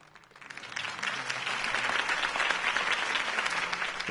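Applause from a crowd in a PS4 video game rises quickly and holds steady, a dense wash of clapping with no voices on top.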